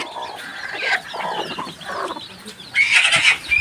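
Several free-range village chickens cluck and squawk in quick, overlapping bursts, fairly close, with a sharper, louder cackle toward the end.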